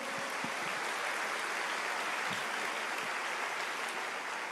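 A church congregation at a Brazilian worship service applauds, producing a faint, distant and continuous patter of clapping with no pauses.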